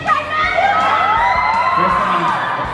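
A crowd of fans cheers, shrieks and whoops loudly and continuously for the Spider-Man actors Tom Holland and Jake Gyllenhaal at a convention appearance in Mexico, with high children's voices carrying over the roar.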